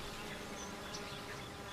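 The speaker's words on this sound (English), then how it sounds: "Bees forage thousands of flowers a day to gather nectar and pollen." Honey bees foraging among flowers make a steady, faint buzzing hum that continues throughout, with a few higher passing drones as individual bees fly near.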